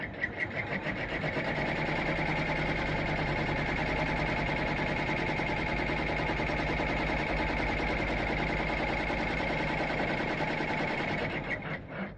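A home embroidery machine stitches out an applique placement line, a steady, continuous rapid mechanical chatter that runs loud and unbroken for about eleven seconds before winding down, with no talking.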